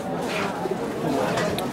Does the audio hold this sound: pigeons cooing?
yes